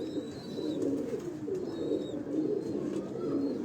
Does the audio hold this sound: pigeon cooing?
yes